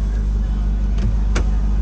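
Car engine idling steadily throughout a police traffic stop, a low continuous rumble close by with a couple of brief higher noises over it and no talk.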